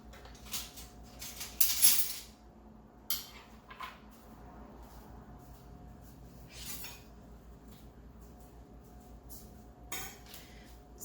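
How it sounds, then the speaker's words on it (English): Knives and a cutting board are gathered in a kitchen, giving scattered clinks and clatters of metal on hard surfaces, with a louder rattle early on and quiet pauses between, and no talking. "I need to grab a couple of knives here"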